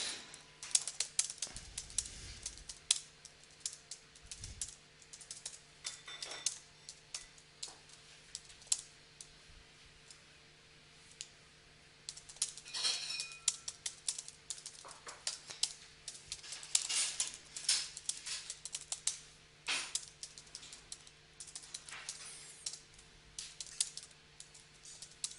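Quiet, steady typing on a computer keyboard, with irregular bursts of soft key clicks and occasional pauses, close and alone without talk, during an online Vintage Masters sealed deck card game.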